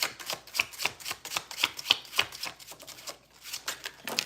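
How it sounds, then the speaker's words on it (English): A deck of stiff gold-foil tarot cards is shuffled by hand, making quick riffling slaps and crisp flicks in uneven bursts, close to the listener with no talking. "These cards are always so hard to shuffle, but I like them because they're the gold foil."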